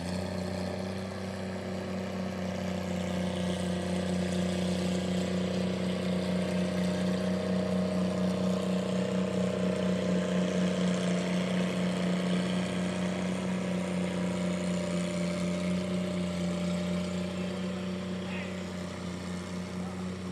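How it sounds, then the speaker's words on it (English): Oliver Super 88 gas tractor pulling at a barnyard tractor pull at the Georgetown Fair, a steady loud engine drone that swells in the middle and then eases, with no talk over it. "Oliver Super 88. Now they made a Super 88 gas and diesel. This is a gas."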